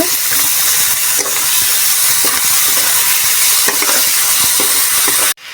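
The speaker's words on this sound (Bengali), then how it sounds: "দিয়ে দিচ্ছি আদা কুচি লঙ্কা কুচি টমেটো কুচি আমরা ভালো করে নাড়তে হবে" Chopped ginger, chili and tomato sizzle loudly in a frying pan while a spatula stirs them, with steady hissing broken by scraping strokes; it cuts off abruptly near the end.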